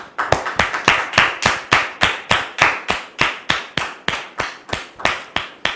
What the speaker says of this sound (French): nous recevons maintenant le pasteur Jacques sous vos applaudissements.